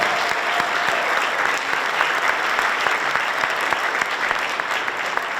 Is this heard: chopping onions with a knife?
no